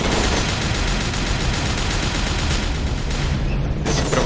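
Sustained gunfire and explosive bursts from the shooter game F.E.A.R. 2 fill the whole stretch, dense and loud with no pauses, ending in a brief dip before the clatter resumes.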